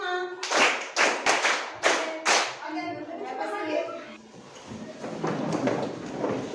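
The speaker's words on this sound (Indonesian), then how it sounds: "Tepuk 1, tepuk 2, tepuk 3, tepuk 4, tepuk 5" A class in an English lesson claps hands in counted beats, five sharp, close, evenly spaced claps followed by voices talking over a busy room.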